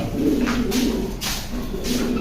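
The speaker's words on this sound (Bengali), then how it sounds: "এগুলো হচ্ছে শখের কবুতর, জোড়া কবুতর।" Pairs of old-breed fancy pigeons cooing together inside a racing loft, a steady low rolling coo that continues through the whole stretch with soft rustling and brief fluttery bursts, close and fairly loud, no one speaking.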